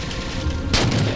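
Gunfire from Grunts in the Halo 4 video game, a sudden loud burst of shots starting partway through, over a steady wash of game sound.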